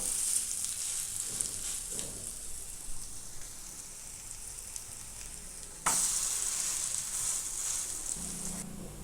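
Food sizzles steadily in oil on a tava over medium heat, a continuous bright frying hiss with a sharp jump in loudness partway through, no voices.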